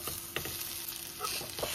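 Boiled potato and onion are stirred in a sizzling pan. The spoon scrapes briefly and rhythmically over a constant close frying hiss, with no voices.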